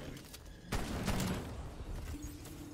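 Gunfire in Call of Duty Cold War Zombies on the Die Maschine map: a quick burst of shots with a crisp crack leading off, followed by rattling reports and background game noise.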